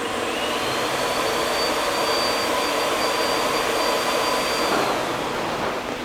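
A 750W cold fireworks spark machine runs steadily, giving a loud, continuous hissing roar with an even level throughout and no voices.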